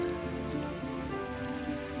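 Steady rain falls on surfaces at a campsite near Arches National Park, a continuous close patter of drops with no talking.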